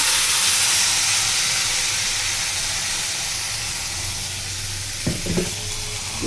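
Hot mustard tempering sizzles steadily in a pan as ground drumstick-leaf chutney paste is poured in, a loud, continuous hissing fry with a few soft clunks from the spoon near the end.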